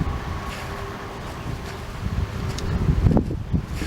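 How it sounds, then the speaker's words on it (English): Wind buffeting the microphone in St Saviour Cemetery in Goulburn, a low rumbling roar that grows gustier toward the end, with faint rustling and no talking. "It's a bit windy guys,"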